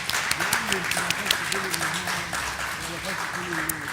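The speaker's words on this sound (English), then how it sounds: "can we just have a huge round of applause to the fantastic panel?" Audience applause for a conference panel at a capacity-building event: a smattering of clapping runs throughout while a voice keeps speaking over it, the claps sharp but not very loud.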